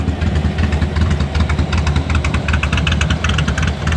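A 1961 classic car idles through a dual exhaust at a car show field, a steady, close, throbbing low-pitched burble with a regular rapid pulse and no voices over it.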